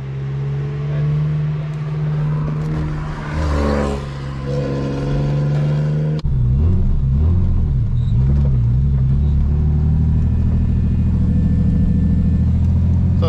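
BMW E30 turbo car at the Kymiring track, engine droning steadily with a rising and falling rev pattern, loud and close from inside the cabin; a gear change at about six seconds shifts the engine note, with a clutch that is not releasing properly.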